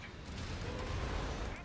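Heavy 210 mm howitzer artillery fire rumbles in Company of Heroes 3, a dense, sustained barrage of booms and bursts that sounds close and loud.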